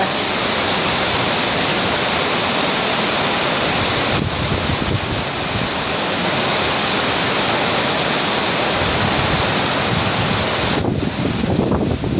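Monsoon waterfalls pour down a hillside in a steady, loud rushing roar that fills the whole stretch without pause, with no voices.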